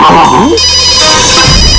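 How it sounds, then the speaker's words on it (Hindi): A mobile phone ringtone blares loudly for an incoming call from a college friend, a bright repeating electronic melody filling the whole moment, with a brief voice in the background. "कॉलेज के फ्रेंड का नाम लिया और कॉलेज के फ्रेंड का फोन आ गया"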